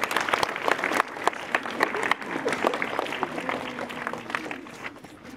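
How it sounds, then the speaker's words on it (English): Audience applause at a primary school assembly, with dense clapping from many hands filling the hall, steady and fairly loud, some voices and cheers mixed in throughout. "welcome him with appreciation of a round of applause"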